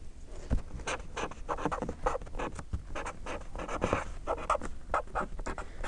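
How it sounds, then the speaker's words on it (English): A math problem written by hand, a steady run of close scratchy strokes and small taps with brief pauses, heard alone with no talking. "Let me write the problem down."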